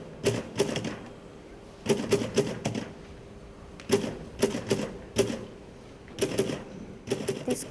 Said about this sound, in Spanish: es una vieja máquina de escribir